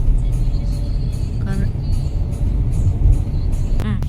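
A car climbs the hairpin bends of the Ooty ghat road, its engine a steady low rumble throughout, with brief voices and a faint tone over it.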